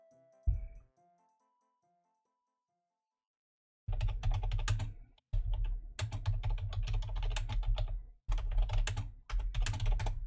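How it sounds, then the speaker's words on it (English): Fast typing on a computer keyboard, dense rapid key clatter close up in several bursts separated by short pauses, after a near-silent opening with a single click. "I'm a typer real fast."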